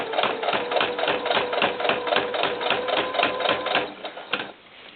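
A sewing machine stitches fabric for a doll cowboy hat in rapid rhythmic bursts, a fast even chatter of the needle that slows and stops near the end, close and clear.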